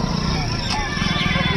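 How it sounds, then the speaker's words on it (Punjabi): A horse neighs at a horse fair in Muktsar, one whinny rising over a loud, busy crowd with voices and fairground noise throughout. "ਆਹ ਦੇਖੋ, ਤੁਹਾਨੂੰ ਘੋੜੇ ਦਿਖਾਉਣੇ ਆ"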